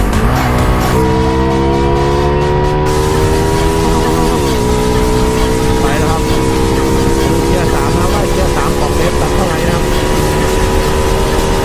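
A Honda Dream Super Cup motorcycle engine with a stock-style ECU revs hard in third gear up to its rev limiter, the rising harmonic whine climbing and holding steady near the cutoff for several seconds.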